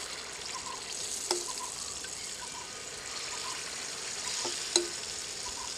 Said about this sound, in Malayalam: ഇനി ചട്ടി ചൂടായി കഴിയുമ്പോൾ ഓരോ ഉണ്ണിയപ്പ കുഴിയിലേക്കും അത് അങ്ങോട്ട് കോരി അങ്ങോട്ട് ഇടുക.